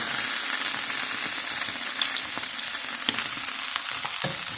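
Ginger sizzles in a hot skillet, producing a continuous bright crackling hiss close up with scattered small pops and no talking.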